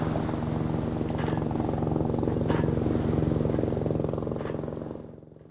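A cartoon robot transformed into a helicopter flies over a farm field to spray medicine, its dense, steady rotor-and-engine drone continuous and loud, then fading away at the end.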